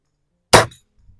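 A single sharp metallic clang as a vintage BAM XS-B26 air rifle pellet strikes a metal silhouette target outdoors, loud and brief, with a quiet low thump trailing after.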